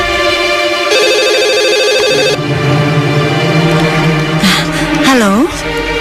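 A telephone rings with a loud, repeating electronic tone in a domestic drama scene, heard close and loud, with a swooping musical tone near the end.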